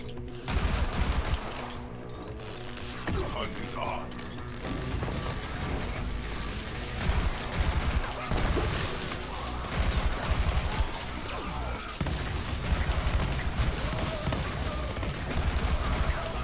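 Rapid gunfire from a Jakobs weapon in the video game Borderlands 3, sustained, dense and loud across the whole stretch with steady repeated shots and mechanical clatter.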